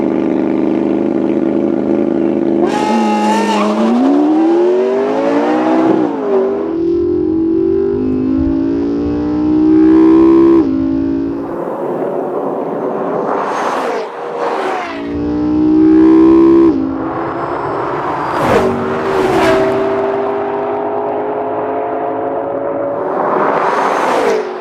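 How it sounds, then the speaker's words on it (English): A McLaren MP4-12C and a Lexus LFA run a quarter-mile drag race, their loud engines revving hard and screaming up through the gears together, with sharp rising whines at each shift and sustained high-pitched roaring throughout. "Off the line, you'll see both cars get moving with just the tiniest bit of wheel spin"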